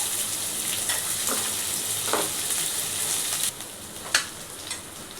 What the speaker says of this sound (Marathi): लसूणही थोडासा लाल झाला की कांदा मिरची घालायची.